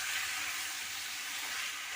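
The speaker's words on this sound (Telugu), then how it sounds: "మనకి బాగా ఫ్రై చేయాలండి." Goat tripe (boti) curry frying in a pan with salt and spices, a steady dense sizzle that stays loud and even throughout, with no voices over it.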